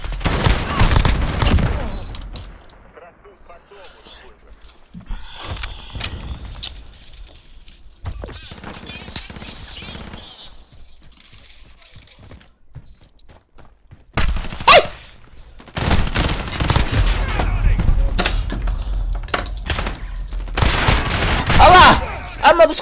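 Rapid gunfire from a Call of Duty match, loud and dense bursts at the start and again in the final stretch, with quieter combat sounds and talk in between.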